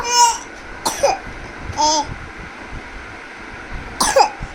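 A young girl coughs several times in short bursts, close by, with brief babbling between the coughs.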